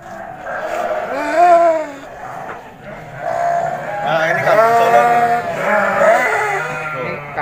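Goats bleat repeatedly at a livestock market in Kuningan where sacrificial goats are sold, several loud wavering calls overlapping close by with a busy crowd murmur underneath.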